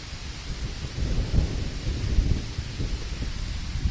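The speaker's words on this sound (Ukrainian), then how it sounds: "почав падати дощик." Rain pours down in a Carpathian forest, a dense steady hiss with low rolling rumbles of thunder surging around the middle, loud and continuous with no voices.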